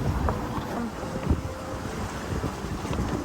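A sailboat heeling through open ocean in 14-15 knots of wind at about 6.5 knots, with steady wind rushing over the microphone, water sloshing and hissing past the hull, and occasional creaks and knocks nearby.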